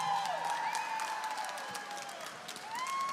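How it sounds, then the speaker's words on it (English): A crowd at an MMA cage fight applauds and cheers for both fighters in the center of the cage, a continuous wash of clapping and shouting with sharp whistles rising above it, close and steady throughout. "please put a big round of applause together for both of the fighters in the center of the cage"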